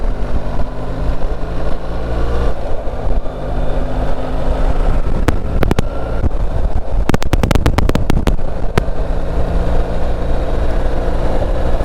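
BMW R1300GS adventure motorcycle being ridden, with a loud, constant engine drone and rushing wind, and a burst of sharp ticks or clatters near the end.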